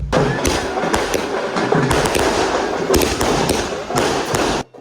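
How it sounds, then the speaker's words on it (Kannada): Firecrackers go off at a village temple fair in Kembalaganahalli, a rapid series of sharp bangs and cracks, loud and close, over a noisy crowd before cutting off abruptly. "ಅದೇ ಗಪ್ಪಲ್ಲಿ ಮತ್ತೊಂದು ಬಾರಿ ಪಟಾಕಿನ ಹಚ್ತಾ ಇದ್ರು"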